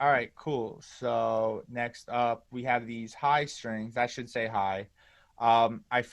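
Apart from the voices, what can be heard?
None of the usual background noises is heard.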